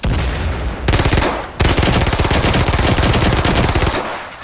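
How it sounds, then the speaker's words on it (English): Loud, close automatic gunfire from a multiplayer shooter video game, a short rapid burst followed by a long sustained stream of rounds that fades out at the end. "That's a lot of bullets."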